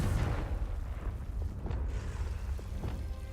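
A Confringo blasting spell goes off in Hogwarts Legacy, a loud booming burst followed by rumbling blasts and pops that keep echoing through the scene.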